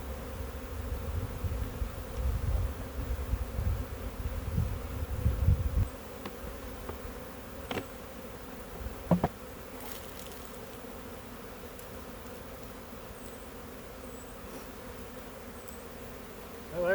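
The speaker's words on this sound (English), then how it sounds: "You got a lot of bees on this wall over here." Honeybees buzz around an open hive by a wall during an early swarm, a faint, constant hum with a few clicks and handling knocks nearby.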